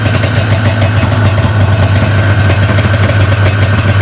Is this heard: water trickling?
no